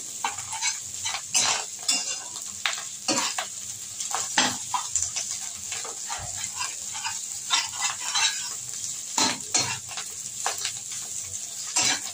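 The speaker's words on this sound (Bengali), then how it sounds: "মাছের ডিমটা আমার প্রায় ভাজা ভাজা হয়ে এসেছে।" Fish roe fries in a pan while a utensil stirs it, giving a steady sizzle broken by repeated sharp scrapes and clinks of metal against the pan at an uneven rhythm.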